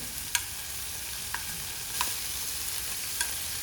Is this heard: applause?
no